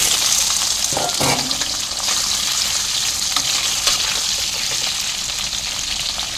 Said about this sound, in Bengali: আলুটা হালকা ভাজা ভাজা করে নিয়েছি